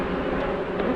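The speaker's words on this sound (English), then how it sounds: "we've got some really angry bees now" Angry honey bees swarm around an opened Layens hive, a dense, steady close buzz that fills the air without pause.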